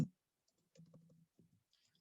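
A name being typed on a computer keyboard, a short, faint run of soft key clicks in an otherwise quiet room after one louder initial tap.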